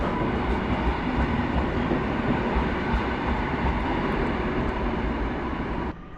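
The Intercity train Fałat, running from Poznań to Przemyśl, pulls away from Wrocław Główny station with a loud, steady rumble of wheels and cars that drops slightly near the end.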